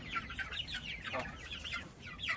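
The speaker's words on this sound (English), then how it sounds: "These are egg-laying chickens." Several egg-laying chickens cluck and chatter nearby in a continuous, overlapping flurry of short calls.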